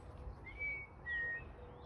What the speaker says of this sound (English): Got some more birds there. Got two, I think they're finches or dunnocks.